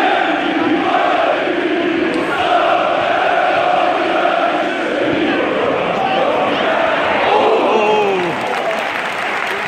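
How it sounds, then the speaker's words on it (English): A noisy football stadium crowd at Everton versus Hajduk Split, a dense roar of chanting, applause and cheering that stays loud and unbroken, with rising shouts near the end. "Their crowd being so noisy has picked our crowd up."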